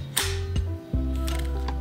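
The film advance lever on a Smena Symbol camera is wound, giving a few close, crisp mechanical clicks and a short ratcheting whirr in a quiet room.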